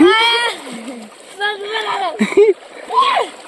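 Children swim in a cool stream, with splashing water beneath loud, high-pitched children's voices that dominate throughout.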